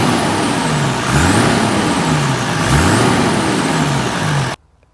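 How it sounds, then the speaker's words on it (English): A Toyota 80 Series Land Cruiser with a 1HZ turbo diesel and a 3-inch straight-through exhaust with no muffler gives a loud, raw, droning rumble. Two short revs rise and fall before the sound cuts off abruptly. "3-inch straight through exhaust"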